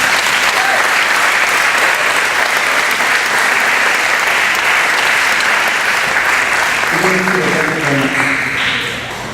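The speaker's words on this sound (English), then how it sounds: "can we give the Mount Carmel team a big round of applause?" An audience at a 2015 high school graduation ceremony breaks into loud, sustained applause, a dense wash of clapping that holds steady for several seconds before tapering, with a voice briefly audible near the end.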